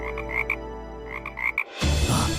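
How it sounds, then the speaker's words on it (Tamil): Frogs croak in short repeated bursts at moderate distance, then a louder rushing noise takes over for the final second. "இங்க தவளைங்க கத்துற சத்தம் கேக்குது,"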